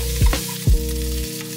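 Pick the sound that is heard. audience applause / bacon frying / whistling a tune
bacon frying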